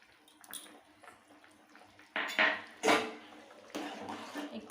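A spoon stirs Bengali rui fish curry with mustard paste in a pan, giving several loud scraping, sloshing strokes close by, each lasting about half a second, with quieter clinks between them.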